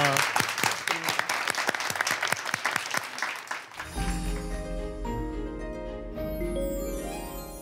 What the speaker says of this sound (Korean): 여러분 다시 한번 고효경 씨께 큰 박수 부탁드립니다